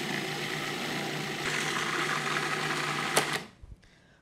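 A food processor purees cashew pesto with oil into a wet, fluid paste, making a dense, steady whirring drone. It runs loud and close, then cuts off, leaving a few clunks and rattles.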